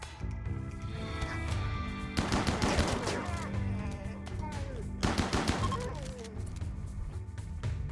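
Gunfire in the game Rimworld sounds in two dense bursts of rapid automatic shots, each lasting a few seconds, loud and close over continuous background game music.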